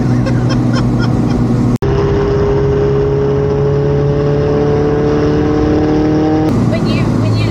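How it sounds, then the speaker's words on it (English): A 700-horsepower turbocharged Honda Civic drag car with a roll cage runs loud and close, its engine and exhaust droning at a steady high pitch, briefly cutting out with a sharp pop before the roar resumes, with voices over it. "it's that loud because the exhaust is right here"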